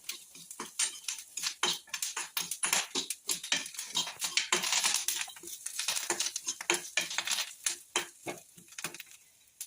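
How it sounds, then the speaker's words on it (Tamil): Grated coconut roasts in a pan while being stirred, giving scraping, clinking utensil strokes against metal in an irregular rhythm, fairly close and moderate in loudness, with no speech. "தேங்காய் போட்டு கொஞ்சம் வறுத்து விட்டு இருக்கணும்"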